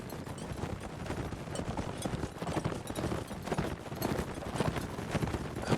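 Cavalry horses gallop in a video game match, hooves drumming in a dense, continuous clatter at moderate volume throughout.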